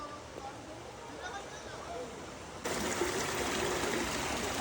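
Spring water from a natural spring flows and trickles steadily nearby, growing louder and fuller partway through, with a continuous bubbling wash and no talking.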